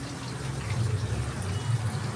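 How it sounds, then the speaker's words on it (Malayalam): Tamarind water pours into a cooking pan in a village kitchen, a soft low gurgling fill that swells and trickles for a couple of seconds, close and fairly quiet. "നമുക്കിതിനകത്ത് ഈ പുളിയുടെ വെള്ളം, അധികം വെള്ളം ഒഴിക്കുന്നില്ല."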